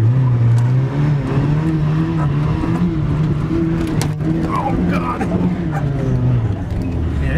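A 1989 Mitsubishi Mighty Max pickup truck accelerates hard in first gear, its engine droning loud and close as it revs up and holds a strained, steady pitch, with some tire and road noise mixed in.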